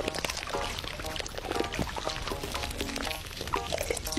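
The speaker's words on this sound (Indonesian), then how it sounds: "Aku mau mandi pakai shower aja." Shower water runs in the Minecraft video game, a continuous pouring splash with bright hiss and scattered droplet patter, moderately close and steady for about four seconds, with no talking over it.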